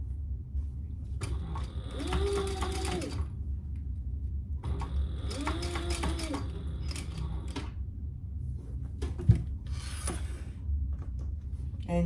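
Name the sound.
sewing machine top stitching a laptop bag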